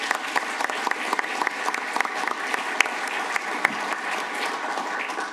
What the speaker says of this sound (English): Please give Ambassador Hakimi and his team a round of applause.